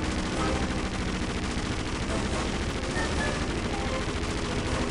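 Enemy gunfire in The Emperor's Tomb Redux, a dense, unbroken fusillade of rapid shots at steady high loudness, with a voice speaking under the barrage.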